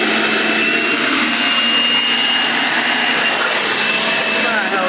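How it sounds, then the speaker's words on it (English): Turbocharged Nissan 350Z with a steady, loud, high-pitched whine and broadband rush that holds without a break, like a turbo spooling close by. "the trick is you gotta spool the turbo."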